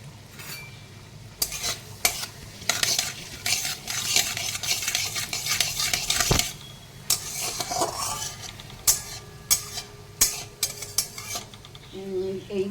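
Whole cumin seeds tempering in hot oil in a pan, with dense crackling sizzle and frequent metal-on-metal scraping and stirring clatter throughout, recorded close with no voices.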